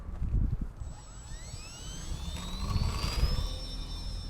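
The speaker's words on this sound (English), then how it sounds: "let's try a half flap takeoff this time actually" E-Flite Valiant RC plane taking off with half flaps on a runway, its electric motor whining as a rising, steady tone climbing in pitch over a few seconds, heard fairly close above low wind rumble.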